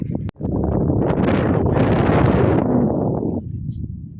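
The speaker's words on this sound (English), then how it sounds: "Absolute wind tunnel." Strong wind buffets the microphone at a lagoon campsite on Mosquito Lagoon, a loud continuous roar with gusty rustle that holds steady for several seconds, then eases slightly near the end.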